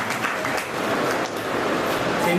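An audience at a Lucknow wedding claps steadily in a dense, continuous burst of applause to welcome a preacher.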